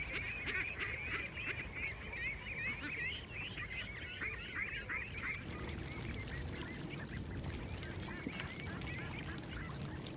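Farm ducks quack and honk loudly in a busy, overlapping chorus that thins out midway, leaving a steadier background of calls and a high whine.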